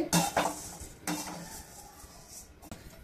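Masoor dal and other lentils are roasted in a pan over a high flame while a utensil stirs them, making a few sharp metallic scrapes and clinks between quieter dry rustling.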